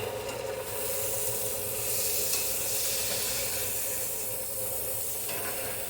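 Squash cooks down in a hot pan with a steady, even sizzle and hiss that holds for several seconds, close and moderately quiet, with no talking.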